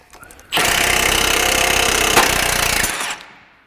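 A power tool spins a nut down a stud during engine work on a Honda Element, a loud, close burst of buzzing, rattling impacts lasting about two and a half seconds before winding down.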